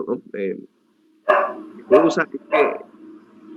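A dog barks several times in short sharp bursts, fairly close, with brief pauses between barks.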